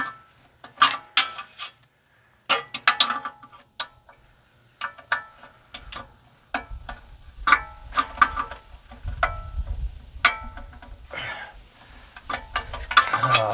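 Ratcheting clicks from a socket wrench on old, rusty exhaust bolts under a worn Chevy Silverado, in bursts of rapid ticking separated by pauses, near and fairly loud, with a low rumble in the latter half.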